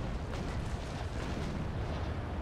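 Ship cannons fire in a naval pirate battle game against a pirate Indiaman fleet, heard as a dense, continuous roar of overlapping booms with no clear gaps between shots.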